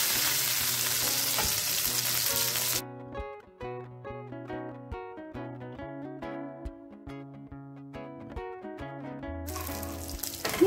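Marinated fish pan-frying in hot oil gives a steady, close broadband sizzle that fades out as music takes over, then returns loudly near the end.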